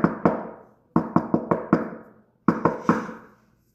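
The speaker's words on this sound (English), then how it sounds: "The leader begins. They knock." A group leader strikes ritual knocks in a rhythmic pattern: one lone knock, a pause, a quick run of five, another pause, then three more, each sharp, close and ringing briefly with no voices.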